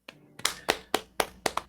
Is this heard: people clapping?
yes